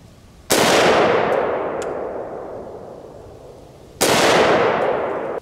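Two loud .308 rifle shots firing 150 grain full metal jacket rounds at an anvil, each a sharp crack with a long rolling echo that fades, the second arriving about three and a half seconds after the first.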